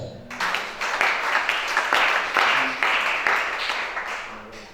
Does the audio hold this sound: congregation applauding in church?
yes